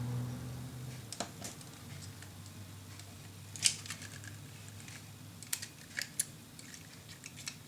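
Scissors snip through folded design paper in a quiet room, giving a few sharp, separate cuts and soft paper rustles at an uneven pace, with no talking.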